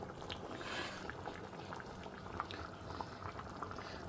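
Snake gourd sambar made with moong dal bubbles in a pot, a faint, continuous close simmering burble with small pops and no talk.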